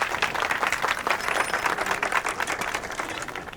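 A film crowd breaks into sustained, dense applause, steady and fairly loud throughout, a continuous wash of many hands clapping together at a Hindi movie gathering.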